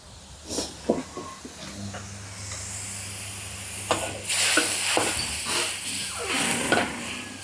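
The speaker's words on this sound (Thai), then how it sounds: "เติมน้ำลงไปค่ะ" Water poured into a hot wok during a cauliflower and sun-dried pork stir-fry, hissing and sizzling in swelling bursts with scraping clinks of a utensil, close and continuous.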